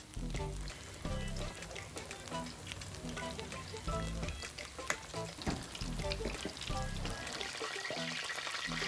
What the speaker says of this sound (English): We're frying some katsu.